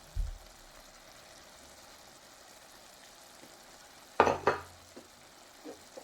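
Tomatoes drop into a pan of chicken vindaloo, giving a sudden loud thump and burst of sizzling, with a few soft clinks of a utensil against the pan before and after over quiet cooking.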